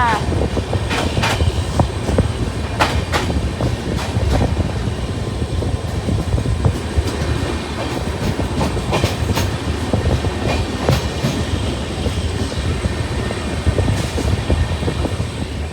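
A passenger train from Obalapura on the Mysuru–Shirdi route rolls along with a loud continuous rumble, repeated clickety-clack wheel beats and rattles, while a voice talks faintly at times.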